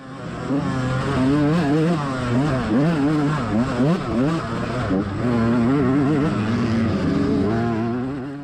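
Dirt bike engines at a GNCC off-road race rev and bog close by, pitch swinging up and down as a rider blasts past, loud and continuous throughout.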